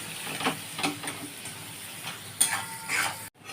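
Onions fry with chopped green chilies in a pan, giving a soft sizzle and hiss broken by a few stirring scrapes, fairly quiet and close, ending abruptly.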